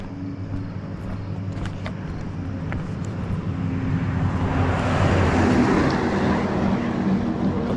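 A power company bucket truck drives past at night on a street in Lewiston, Maine, its engine and tyre rumble swelling from a steady background drone to a broad, loud roar midway, then holding near.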